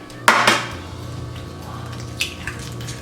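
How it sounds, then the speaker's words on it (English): An egg cracked for potato latke batter in a home kitchen: two sharp taps on a hard edge close together, followed by a few quieter clicks and light kitchen clatter. "So crack one egg"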